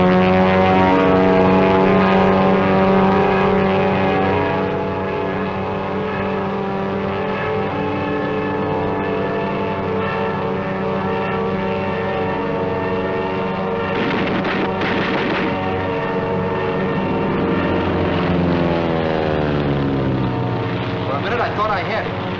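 A Japanese Zero fighter plane's radial engine drones loud and continuous, its pitch sliding slightly as the aircraft moves, with a sustained rough roar and no gaps.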